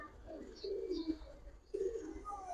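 Pigeons, a pair of Giribaz high-flyer birds, give soft throaty coos in two short bursts close by, with a brief quiet gap between them.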